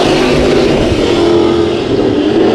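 IMCA Modified race cars roar around the Bakersfield Speedway dirt oval during a heat race, a loud, dense, continuous engine drone holding steady throughout.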